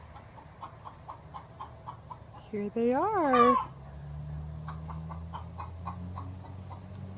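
Chickens cluck and fuss inside a cleaned backyard coop, scattered close calls with one louder rising squawk in the middle, while a person speaks briefly nearby.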